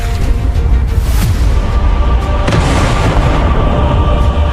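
A cartoon explosion blast: a loud, sustained roaring boom with a couple of sharper crackling bursts layered in, dense and continuous from start to finish, with no speech.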